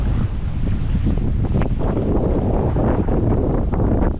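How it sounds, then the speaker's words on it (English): Strong shore wind of 25 to 35 mph, gusting near 40 mph, buffets the microphone in heavy, rumbling gusts, with surf washing faintly underneath. "The wind has got to be 25, 30, 35 miles an hour, maybe 40 mile an hour gusts."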